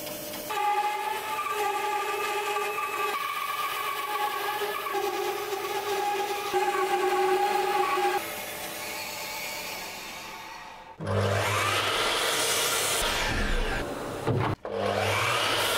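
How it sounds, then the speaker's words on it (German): Wood being sawn for a hanging swing bed, a long run of steady sawing strokes with a whining, tonal edge, followed by a brief pause and a louder, rougher burst of cutting near the end. "Sebastian darf wieder sägen."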